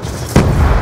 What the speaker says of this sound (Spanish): Va adhesiva.